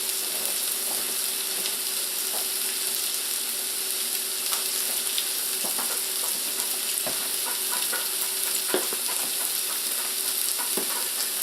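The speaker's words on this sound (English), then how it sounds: "we're actually going to saute this all the way down. So we'll let that cook for a little bit." Vegetables sauté steadily in a hot pan for a Mediterranean plate, a constant close sizzle with occasional scrapes and clicks of stirring, no talking.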